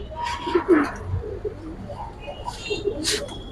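Giribaz and racer pigeons of an old bloodline coo in low, rolling bursts near the start, with more soft calls scattered after, while someone talks over them at a market stall.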